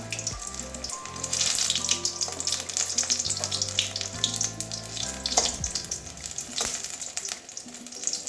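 Water lily stems frying slowly in a pan over low heat, a soft, even sizzle close by with faint scraping and shifting, no voices.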